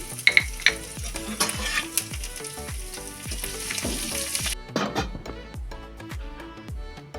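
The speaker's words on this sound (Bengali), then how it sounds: "তেলের মধ্যে দিয়ে দেবো পাঁচ ফোড়ন আর দিয়ে দেবো পরিমাণ মতন আদা কুচি" Panch phoron spices and chopped ginger hit hot oil for a crispy Bengali snack, producing a loud, close crackling sizzle with many sharp pops that settles into a steadier fry.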